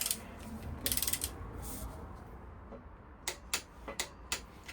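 Torque wrench ratcheting in short clicks while tightening the cylinder head bolts on a Triumph 2500 engine rebuild, a few quick clicks early, then several distinct clicks spaced out near the end, close and fairly quiet.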